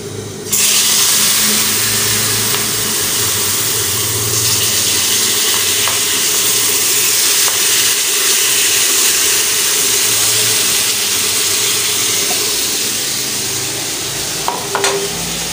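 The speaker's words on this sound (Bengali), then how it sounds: "মাছ তিন পিস এখন ভাজা করবো খাওয়ার লাগে" Three pieces of fish fry in a pan in a home kitchen with a loud, continuous hiss and sizzle that stays steady for several seconds, close to the microphone, with faint clinks near the end.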